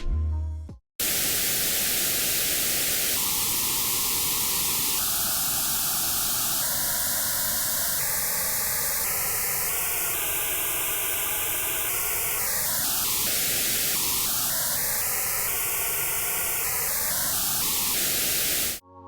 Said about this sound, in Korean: 전체적인 프리퀀시를 위해서 노이즈 사운드로 하겠습니다.